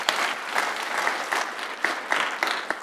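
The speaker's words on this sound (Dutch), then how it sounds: "Oh ja, een applaus mag hoor." Brief scattered applause from an audience at a student election debate at Tilburg University, a modest number of hands clapping in uneven bursts, fairly light and close.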